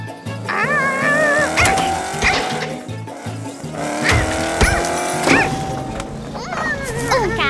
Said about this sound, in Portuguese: Um carro de corrida não corre na floresta, Morpho.